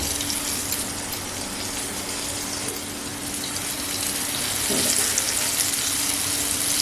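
Sole fish sizzle in hot oil in a pan, giving a dense, steady frying hiss that holds even throughout and swells slightly toward the end, close and fairly loud with no voices.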